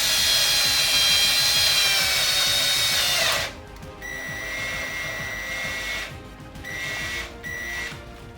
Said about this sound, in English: drilling resin